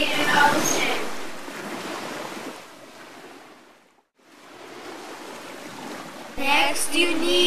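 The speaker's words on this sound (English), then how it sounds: "First, you need an ocean." Ocean waves on a beach in a film, a broad roaring wash of surf with wind noise that swells, dips almost to silence midway, then returns and brightens at the end.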